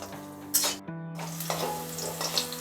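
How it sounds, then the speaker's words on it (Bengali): Bitter gourd pieces sizzle in hot oil in a pan for a Bengali shukto, a crackling fry with bursts of spatter over steady background tones. "তারপর আমরা উচ্ছেটা ভাজবো"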